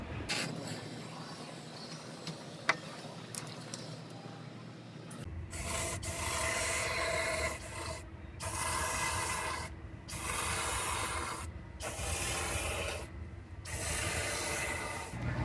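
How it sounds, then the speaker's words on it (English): A 360-degree spray wand hoses rust-prevention coating into the body cavities of a car, giving a loud, continuous hiss in several long bursts separated by brief pauses after a quieter start. "this wand sprays in a 360-degree pattern, and I'm gonna fish it in all these holes and hose this stuff inside of there"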